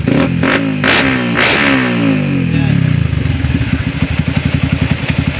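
A motorcycle engine being tuned through its ECU, revving up and down in close, loud bursts before settling into a fast, steady pulsing beat.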